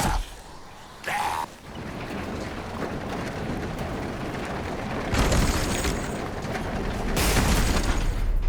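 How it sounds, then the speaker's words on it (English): A cart is shoved in The Walking Dead video game, producing loud mechanical rattling and grinding bursts with clanking surges. Heavy noise runs throughout, with sharper peaks near the start and again toward the end. "The cart. If we push it, the noise will draw them away."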